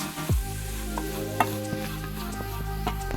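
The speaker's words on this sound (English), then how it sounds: "I'll stir it until it turns golden brown" Coconut candy mixture is stirred in a pan with a steady, continuous sizzle, and a few soft spoon scrapes and taps sound close by throughout.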